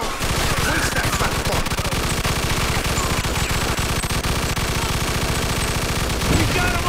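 Sustained loud machine-gun fire in a Mafia 2 gunfight, a rapid, unbroken rattle of shots lasting the whole stretch, close and dominant with faint voices underneath.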